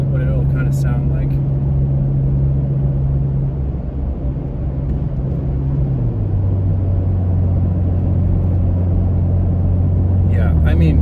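Toyota Tacoma with an aftermarket overland exhaust coasting at highway speed, a low steady droning rumble that drops slightly in pitch midway, with someone talking briefly at the start and end.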